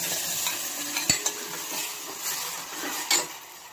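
Dal poured into a hot pan of sizzling oil tempered with chopped garlic, chili and curry leaves, giving a steady hiss with a couple of sharp splashes and clinks of a spoon against the pan.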